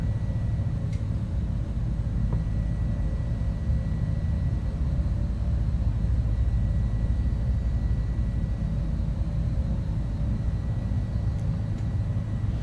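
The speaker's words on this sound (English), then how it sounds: "the airplane is of course the marvelous black square Grand Duke" A Black Square Piston Duke twin-engine propeller aircraft taxiing in a flight simulator, its engines giving a steady, dense, low rumbling drone that holds unchanged throughout, with no talk.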